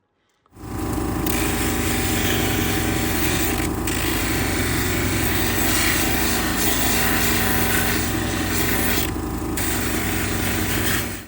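A polishing wheel grinds against a scratched surface, a steady loud rasping whir that starts abruptly and runs continuously without pause or voices.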